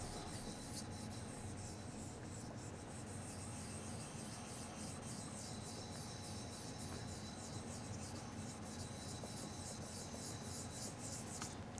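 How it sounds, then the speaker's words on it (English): Steady, continuous rubbing and rasping of a violin bridge being lapped flat in circular motions on wet Japanese sharpening stones, a close, even grinding texture that holds throughout with no pauses. "Start by lapping the back. I just use circular motions."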